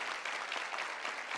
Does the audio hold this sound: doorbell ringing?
no